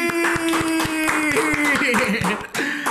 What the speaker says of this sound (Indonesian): Kita berikan tepuk tangan untuk Ibu Wiwi.